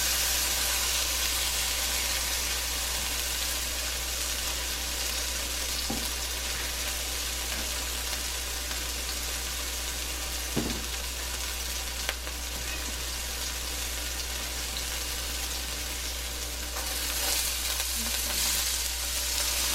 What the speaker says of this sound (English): I just put some olive oil in the wok. I'm gonna put the garlic and the onions.